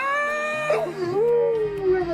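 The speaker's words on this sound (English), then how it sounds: "Oh, and this is Bruce, our boat dog." A dog aboard a Scepter 41 sailboat gives a sustained, rising-and-falling howl that is loud and close, with one brief wavering break partway through.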